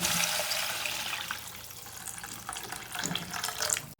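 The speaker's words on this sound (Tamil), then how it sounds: "இப்போது மூணு கப் அளவுக்கு தண்ணி சேர்த்துக்கலாம்" Water poured into a pot of half-cooked mushroom soup, a soft continuous splashing and trickling that stays fairly quiet, with a few brighter gurgles toward the end.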